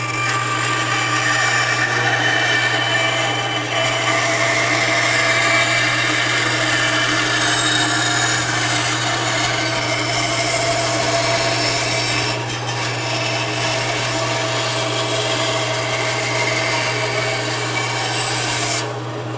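A bandsaw cuts through a bass guitar body, sculpting and rounding the body wings, with a loud, steady motor hum and continuous wood-cutting rasp running without break and no talking.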